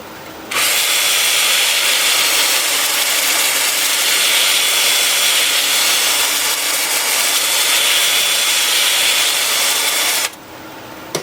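A loud, steady high-pitched whir of a wood lathe spinning an apple-wood bowl at about 350 rpm runs continuously for about ten seconds, then cuts off abruptly.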